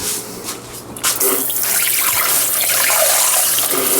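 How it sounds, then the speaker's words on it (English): Water runs steadily from a kitchen tap into a mixing bowl being rinsed, a brief gurgle giving way to a full, close rushing stream. "Get this water rinsed out of here."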